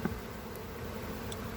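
Honey bees hum in an open hive crowded with nine frames of bees, a steady soft drone of many wings with a few brief louder passes close by.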